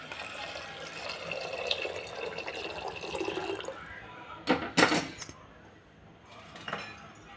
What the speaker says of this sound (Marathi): एका साईडला पाणी गरम करत ठेवलं ते पाणी टाकून देते